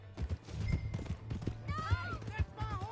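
Horse hooves clip-clopping in the Western video game Red Dead Redemption 2, a busy rhythmic patter under game dialogue and music, with voices talking over it.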